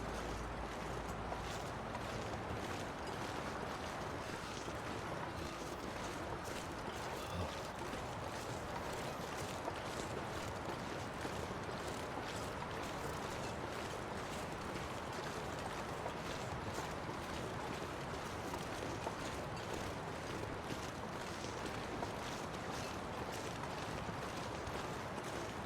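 Wind blowing steadily in the snowy wilderness of the video game The Long Dark, a continuous faint rushing whoosh with gentle rhythmic gusts, no voices.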